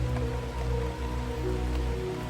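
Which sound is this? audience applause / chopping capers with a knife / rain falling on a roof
rain falling on a roof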